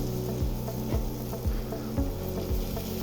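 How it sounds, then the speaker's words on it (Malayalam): Cumin seeds roast in a pan for samosa filling with a soft, continuous sizzle, broken by regular scraping strokes of stirring about twice a second over a steady low hum. "ഒരു ലേശം ജീരകം വറുത്ത് കൊടുത്തിട്ട് ജീരകം"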